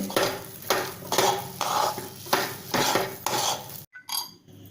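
Thick cooked puran filling of chana dal and jaggery being stirred and mixed with a spoon in a pot, giving repeated rhythmic scraping strokes, close and fairly loud, ending in a short pause and a few lighter taps.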